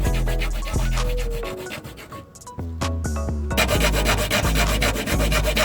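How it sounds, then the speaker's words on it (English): A tool cuts through screws hidden under filler in the bumper of a wrecked Audi Q7, a loud close grinding and buzzing that pauses briefly midway before resuming at full strength. "So we're gonna have to cut the screw off"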